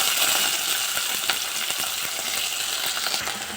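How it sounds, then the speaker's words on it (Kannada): Small pieces of eggplant with dried red chillies fry in a pan for vangibath, giving a steady close hissing sizzle throughout with faint stirring scrapes and no talk. "ಚೆನ್ನಾಗಿ ಫ್ರೈ ಆಗ್ತೈತೆ ಬದನೆಕಾಯಿ"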